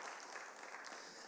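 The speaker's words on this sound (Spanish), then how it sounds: "Démosle un fuerte aplauso al Señor, hermanos" A church congregation applauds the Lord during a service, a faint, distant, steady wash of many hands clapping.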